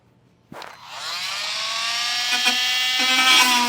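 A power tool cuts through a plastic interior trim panel on a 2015 Mercedes-Benz to route hitch wiring, starting abruptly with a loud, steady whine and buzzing rasp that holds for several seconds.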